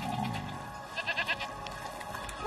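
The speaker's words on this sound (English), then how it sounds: "You're a nice goat, Lucinda." A goat bleats a few times in a short, wavering cry at moderate distance, preceded by a brief low murmur of a voice.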